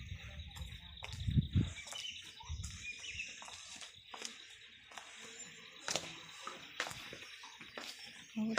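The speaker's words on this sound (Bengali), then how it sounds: "পাখির ডাক ছাড়া আর কিচ্ছু শুনতে পাবেন না এখানে।" Birds calling around a quiet hill homestay in Tinchuley, faint scattered chirps and short calls over a hushed background, with a few soft nearby thumps and rustles.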